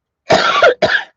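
A person with a persistent cough gives two close, harsh coughs, a longer one followed quickly by a shorter one, with no speech around them.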